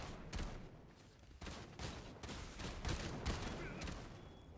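Video game gunfire in a ranked match comes as a fairly faint series of sharp, irregular bursts that repeat every half second or so over a low background.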